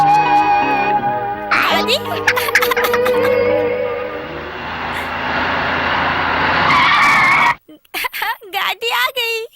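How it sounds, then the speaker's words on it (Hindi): A car arrives at speed and its tires squeal and skid loudly for several seconds before the sound stops abruptly, with someone talking over the start and then again afterward. "गाड़ी आ गई।"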